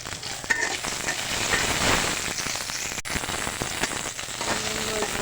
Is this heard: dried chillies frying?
yes